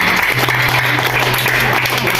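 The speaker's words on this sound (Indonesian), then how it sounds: "biar lebih meriah, biar lebih semangat tepuk tangannya di atas." Indoor audience at a school history discussion event in Gresik clapping together, a dense steady loud wash of hand claps filling the whole stretch with a low hum underneath.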